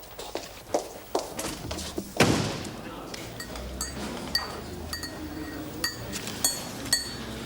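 A spoon stirs in a cup, giving a series of light, close clinks spaced through the scene, along with one louder knock and occasional talk.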